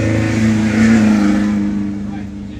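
A 1600 buggy at an off-road desert race in Powell, Wyoming, roars loudly down the straight toward the tabletops, a steady droning engine with slight pitch rise that eases off at the end, under a commentator's voice.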